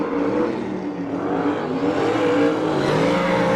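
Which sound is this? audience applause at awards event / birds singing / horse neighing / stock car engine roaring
stock car engine roaring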